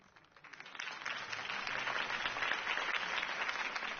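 Crowd applause following a mayoral campaign speech, a steady wash of many hands clapping that swells in during the first half-second and holds loud and dense to the end with no voices.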